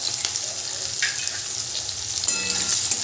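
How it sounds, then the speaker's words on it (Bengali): Chopped onion sizzles steadily in a hot pan for a home-style chicken curry, with a few scraping stirs of a spatula against the pan, close and constant, with no voices. "পেঁয়াজ কুচিটা দিয়েও ভালো করে নেড়ে নিতে হবে।"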